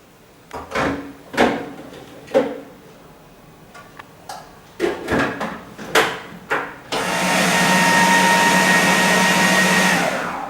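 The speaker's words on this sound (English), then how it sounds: "We're going to blend this up now." Raw chocolate made with cacao powder is blended: a string of sharp clacks and thumps is followed by a loud, steady motor whir that runs on without pause to the end.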